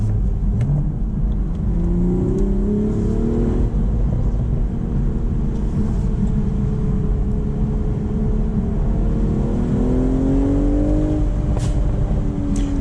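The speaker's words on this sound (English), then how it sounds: "you got a little pop from the exhaust there" A 2025 BMW Z4 M40i with a manual transmission accelerates hard on an open road, its engine note climbing and shifting through the gears under heavy wind rush, ending with a brief exhaust pop.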